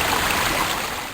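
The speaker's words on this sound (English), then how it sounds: "A little creek ran nearby." A little creek flows in a brief burst of steady, close rushing water that gently fades toward the end.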